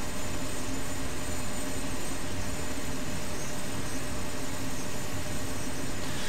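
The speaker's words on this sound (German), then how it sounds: "Das ist der Heli" A helicopter in the video game DayZ Epoch Overpoch drones steadily with a loud, constant rotor and engine roar that stays unchanged throughout.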